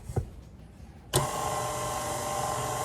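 An electric mixer starts up on low speed in sweet potato pie filling with eggs, beginning with a sharp onset and then a steady whirring hum that fills the rest of the moment after a brief soft knock.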